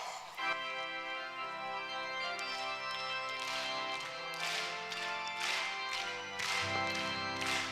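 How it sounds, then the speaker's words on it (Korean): A church congregation claps along to a hymn at a Sunday service, with organ or keyboard and singing carrying the tune and steady rhythmic hand claps rising in bursts over the music. "우리 힘차게 박수 치시면 찬양합니다"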